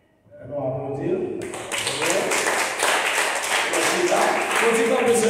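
A church congregation breaks into applause during a sermon, broad clapping swelling after a brief quieter start and continuing steadily, with voices talking over it.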